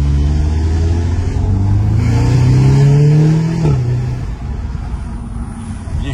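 An Audi S3's engine revs from a steady drone to a rising, louder roar, peaking briefly before dropping back to a lower hum, heard from nearby with no talking.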